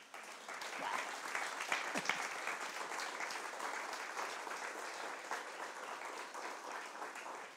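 Church congregation applauding together, a dense sustained burst of clapping at moderate distance that holds steadily for several seconds with no talk over it.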